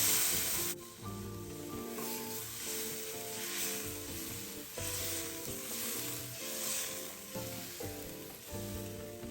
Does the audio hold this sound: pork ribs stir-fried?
yes